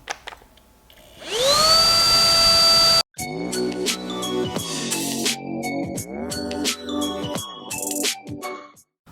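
A Puron PU20 handheld vacuum cleaner from Poland spins up with a rising whine, runs loud and steady for about two seconds, then cuts off abruptly before music takes over.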